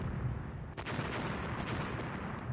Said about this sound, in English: 6-inch gun hits again.